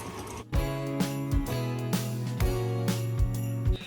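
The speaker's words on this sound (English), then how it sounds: "Sometimes this can be a little loud on your KitchenAid because there's not much in there" A KitchenAid stand mixer runs on low with a nearly empty bowl, whipping royal icing ingredients, giving a loud steady motor whine with repeated clanking knocks as the beater hits the bowl, close up and without talk.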